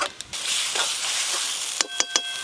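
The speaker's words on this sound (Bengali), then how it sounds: "এই বাটা মশলাগুলো দিয়ে 2-1 মিনিট ভালো করে নাড়বো" Ground spice pastes of coriander, cumin, turmeric and dried red chilli fry in a pan as they are stirred, giving a steady close sizzle with a few sharp scrapes of the spoon near the end.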